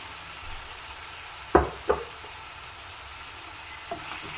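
Tomato and onion frying in a pan for a ridge gourd side dish, a steady low sizzle throughout with a couple of sharp spoon or utensil knocks near the middle and a softer tap later, no talking.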